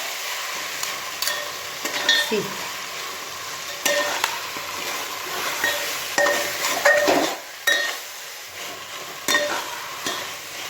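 Veg hakka noodles tossed and stirred in an oily pan, with repeated clinks and scrapes of a utensil against metal over a steady sizzle, no talk.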